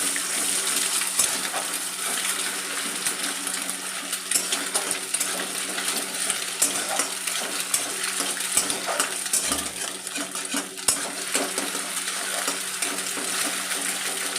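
Eggs spattering and frying in a hot pan while being cooked into egg bhujia, with occasional clinks of a utensil against the pan; a steady close-up sizzle with no talking.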